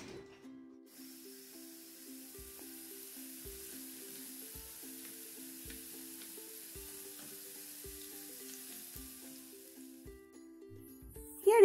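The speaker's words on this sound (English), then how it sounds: "Here you can see I'm frying my French fries in batches" French fries frying in a pan in batches in a home kitchen, a steady soft sizzle running throughout with faint periodic low taps, moderately quiet and close, with no talking.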